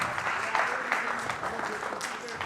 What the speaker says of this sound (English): one more round of applause for these 3 guys